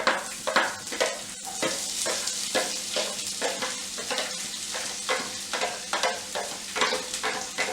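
Onion is added to hot oil with potato, mustard seeds and groundnuts, frying in a pan with a steady sizzle while a spatula stirs and scrapes in regular close strokes, with no talking.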